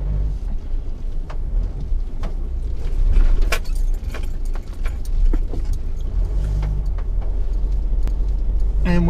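A 4x4 crawls off-road around an obstacle on a rough track, with a low steady engine rumble up close and scattered knocks and rattles from the vehicle as it moves.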